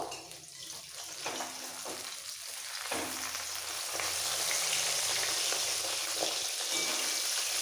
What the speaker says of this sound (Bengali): একসাথে সব মাছগুলো দিয়ে দিলাম এবার একটু কড়া করে ভেজে নেবো মাছগুলো